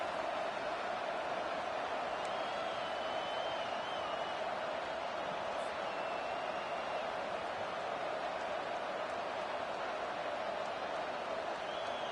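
A home crowd at a college football game between Northwestern and Michigan roars steadily and loudly for about twelve seconds as the defense faces third down, a continuous far-off wash of cheering.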